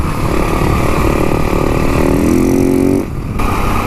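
A motorcycle on Shinko 520 tyres descends a steep hill under engine braking, its loud, close engine a steady droning roar with a rising whine, briefly dipping near the end; no voices.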